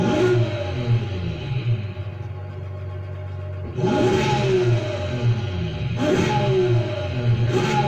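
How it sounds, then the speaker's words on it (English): A Ferrari LaFerrari in Need for Speed Heat, with a stock engine, revs loudly and repeatedly, roaring up in pitch in several surges over a steady idling drone, close and continuous. "Exhaust sound for those who want mine."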